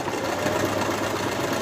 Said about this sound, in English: here when I'm sewing this kind of seam